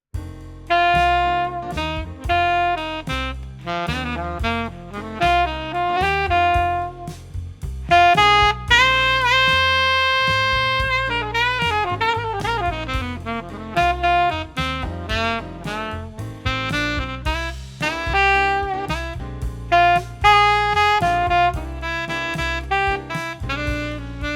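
An improvised melodic solo weaves over a walking bass and chord backing, phrases rising and repeating a short motif across a bluesy groove.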